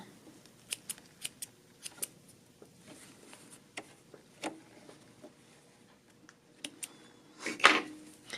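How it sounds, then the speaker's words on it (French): Scissors snip the starting threads on fabric while sewing a dolman sweater, a scattered series of small, close, quiet clicks and cuts with a louder rustle near the end. "je viens couper mes fils de départ"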